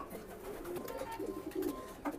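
Racing pigeon chicks of pedigree lines coo in short, low, soft calls close by, a few rising murmurs over a faint background, with no speech.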